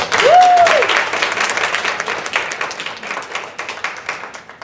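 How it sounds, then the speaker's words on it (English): Audience at a school student government meeting applauds, a dense wash of clapping that starts loud and slowly thins over several seconds, with a brief whistle near the start. "So give them a round of applause all the time."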